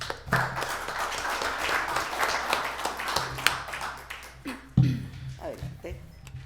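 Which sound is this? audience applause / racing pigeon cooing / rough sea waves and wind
audience applause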